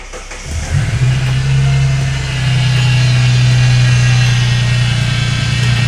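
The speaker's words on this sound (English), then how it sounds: "start the car" A turbocharged Ford Barra engine in a long-neglected car, its cooler disconnected, cranks and catches about a second in, then settles into a loud, steady, droning run with a strong low hum held close to the end.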